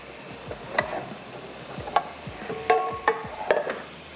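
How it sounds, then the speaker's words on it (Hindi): Masala roasting in a pan for kabab karahi, with a spoon scraping and stirring in irregular clicks and knocks over a soft sizzle, close and fairly quiet. "तो ये मसाला भून लेते हैं"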